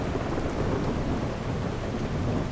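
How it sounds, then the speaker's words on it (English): A thunderstorm rumbles in the video game The Last Caretaker, with dense rain and low rolling thunder filling the whole stretch at a steady, loud level with no talking. "we're gonna have to wait until the storm's lightened up a little bit"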